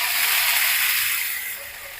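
Pumpkin, potato and green chillies hit hot oil spiced with asafoetida, giving a loud steady sizzling hiss that eases slightly toward the end, with no voices.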